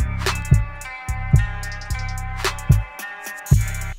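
A produced bass line with its final EQ applied, playing short repeating low notes under quick percussive hits in a steady, close-sounding loop.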